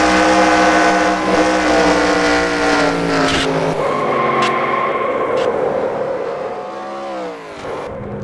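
A race car engine in a sim racing video game screams loud and close with a layered harmonic drone, then cuts out abruptly partway through, leaving quieter background engine noise before another car sweeps past.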